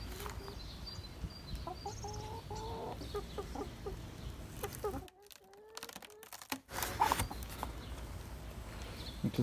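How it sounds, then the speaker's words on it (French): Backyard hens, a cuckoo hen and a red hen, clucking softly in short bursts while someone speaks nearby, with a brief rustling knock midway. "Donc ça c'est la poule coucou et la poule rousse."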